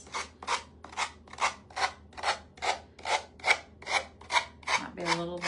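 A small handheld power sander works the edges of a Christmas bouquet craft piece in steady back-and-forth strokes, about a dozen rhythmic rasping passes, close and fairly loud, with no talking.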